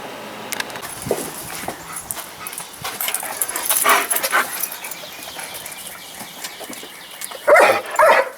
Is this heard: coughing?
no